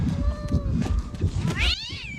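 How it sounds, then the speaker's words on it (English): A black cat meows in a television drama scene, one drawn-out rising and falling cry near the end, after low voices and background sound. "It was a black cat too"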